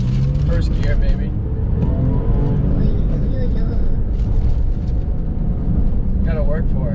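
A Porsche 996 911 engine pulls hard in first gear, a loud, steady close-up drone that climbs in pitch as the car accelerates, with faint speech underneath.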